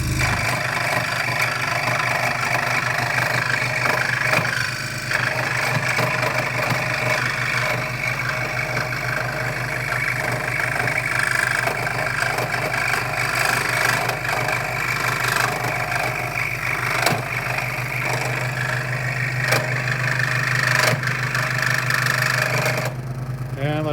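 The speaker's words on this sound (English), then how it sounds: "So, does she scroll? Yeah, scroll saw." A Wen 16-inch variable speed scroll saw runs steadily while cutting 3/4-inch Douglas fir, a continuous buzzing, rapidly reciprocating mechanical drone held close and loud throughout, with a brief dip near the middle.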